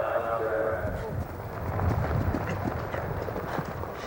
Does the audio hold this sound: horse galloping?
yes